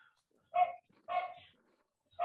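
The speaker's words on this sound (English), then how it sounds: "my dog is barking" A dog barking indoors, three separate muffled barks spaced about half a second apart, fairly faint and distant.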